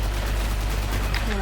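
Rapid gunfire from the video game Destiny crackles in loud, dense bursts over a constant low rumble. It runs without a break through the whole short stretch.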